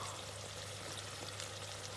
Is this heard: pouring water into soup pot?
yes